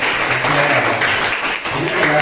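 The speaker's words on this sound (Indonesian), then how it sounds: "Tepuk tangan untuk Mas Yen." A classroom audience at a science teaching session on heat gives a short round of clapping, a brief dense patter heard under overlapping talk.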